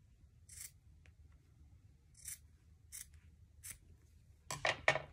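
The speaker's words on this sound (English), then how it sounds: "So I'm going to trim off this little bit down here" Scissors trimming lace fabric during slow stitching, giving several short crisp snips spaced apart, then a quick louder burst of cuts close by at the end, over a quiet room.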